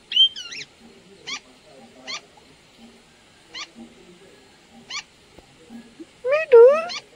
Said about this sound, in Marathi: सागरबाईची मांजर आपली.